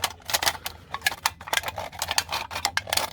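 A knife works its way around a metal can along a scored line, producing close, irregular scraping and ticking bursts of sharp metallic clicks that come in quick clusters with no talk.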